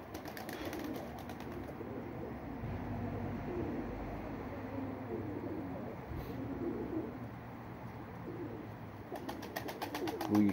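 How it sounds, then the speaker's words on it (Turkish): Pigeons coo outdoors with a soft, steady murmur of low calls running throughout, fairly faint and set against general outdoor background noise. "Kuşların hepsi dışarıda, durum bu."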